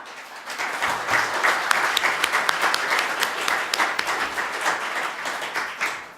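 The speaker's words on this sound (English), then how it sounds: "Can I get a round of applause for all the givers?" An audience at a hall of fame grand opening at a castle museum applauds, dense, lively clapping with sharp individual claps standing out, building quickly and carrying on steadily to the end.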